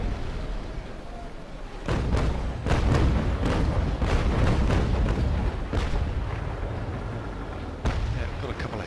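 Ship cannons fire during a naval battle in Naval Action 2, heavy booming shots repeating over several seconds with dense low rumble, while someone talks over them.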